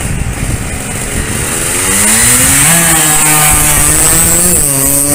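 A Suzuki RGR 150 two-stroke motorcycle engine buzzes loudly, then revs up with rising pitch and holds a high, rasping whine close by.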